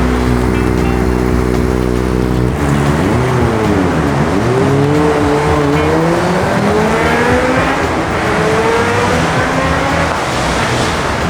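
A Kawasaki ZX-4RR motorcycle fitted with a full-system aftermarket exhaust drones steadily and loudly, its pitch rising and falling as the rider accelerates and shifts, with no voices.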